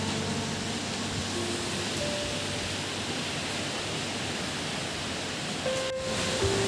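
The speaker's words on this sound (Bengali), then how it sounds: "ঝড়ের কি বিশাল গর্জন শুনুন" Storm wind and heavy rain from Cyclone Remal make a dense, continuous roar that stays steady and loud throughout, with no voices.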